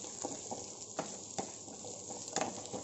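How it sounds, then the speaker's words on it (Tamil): Onions sautéing in oil in a kadai give a quiet, steady hiss, broken by a few light taps from a stirring spoon, heard nearby with no one speaking. "வெங்காயம் கொஞ்சம் வதங்கட்டும்"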